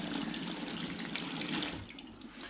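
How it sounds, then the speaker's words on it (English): A washing machine fills with water running in through its detergent drawer, a steady close rushing and splashing flow that eases slightly toward the end, with no talking. "Bit of water coming out because it is just filling up by the stomach drawer."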